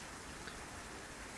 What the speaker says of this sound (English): The raging rain covered up all the noise